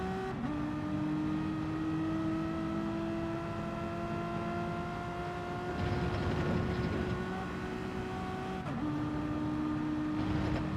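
Onboard engine note of a Renault Gr.4 race car in Gran Turismo 7 racing at an Italian circuit, steady high revs with rising gear pitch, a shift drop near the start and another late, plus a brief burst of surrounding noise midway.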